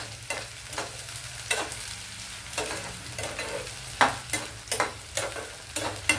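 Onions and potatoes fry in a pan for a Telugu raw banana and potato fry, with steady sizzling punctuated by regular scraping strokes of a spoon stirring, close and moderately loud.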